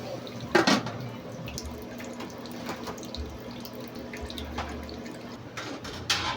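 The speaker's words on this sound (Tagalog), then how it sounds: "Lagyan natin ng water. Add tayo ng water." Water running from a kitchen tap and splashing into a pan of fried pork chops, a steady close pour with a few sharper splashes near the start and end, no voices over it.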